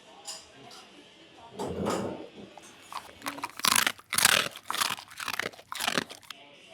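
Crisp, crunchy chewing of chocolate with a crunchy filling close to the mic, a run of sharp bites and crackles in bursts, with a short stretch of softer mouth sounds at first.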